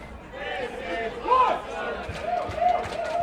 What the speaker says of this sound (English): Crowd coming alive.